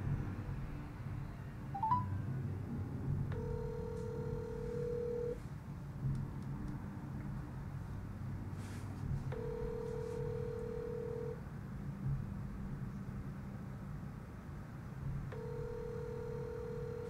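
A phone call being placed: a soft dial tone, then three evenly spaced ringback tones of about two seconds each, quiet over a low steady background hum, with no one speaking.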